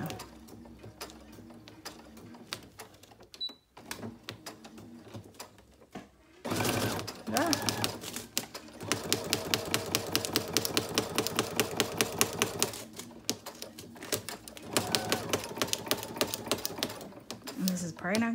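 A sewing machine stitches through a paper binder, starting with short bursts and then running in long, fast, rhythmic clatters, with someone talking quietly at times between runs.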